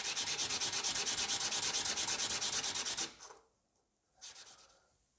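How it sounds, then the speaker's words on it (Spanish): Jewelry rubbed on 240 grit sandpaper in steady, rapid back-and-forth strokes, a close rhythmic scratching that stops abruptly, followed by one more brief rub after a pause. "vamos a pasar ahora con el mismo esmeril 240 sobre una tablita rectificada"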